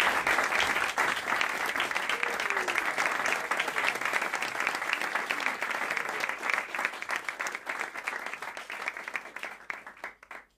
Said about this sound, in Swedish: Så give it up för Mika Grinell